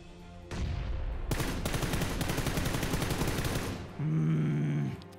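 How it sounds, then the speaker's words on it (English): Gunfire in PUBG: rapid bursts of automatic rifle fire rattle loudly for several seconds, then break off into a lower, sustained tone near the end. "That's three people shooting."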